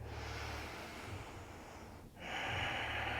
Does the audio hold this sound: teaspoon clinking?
no